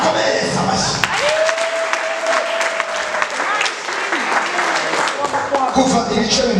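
A church congregation at a worship gathering applauds steadily and densely throughout, with a sustained tone and voices running beneath the clapping.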